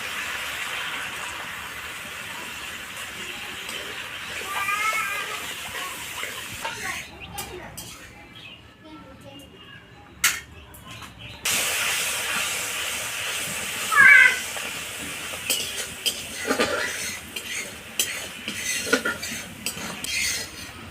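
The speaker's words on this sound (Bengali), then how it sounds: "আমি অল্প পরিমাণে জল দিয়ে মশলাটাকে কষে নেবো" Turmeric and chili powder spice paste frying with a little water in a pan, for a pomfret oil-chili curry: a steady moderate hiss with occasional stirring scrapes and utensil clinks, fading in and out over background household noise.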